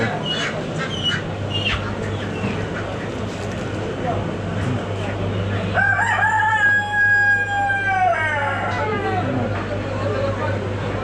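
A rooster crows over the busy din of a bird stall at Rasht's market, where chickens and ducks are sold. Steady crowd noise runs throughout, and one drawn-out crow rises clearly around the middle.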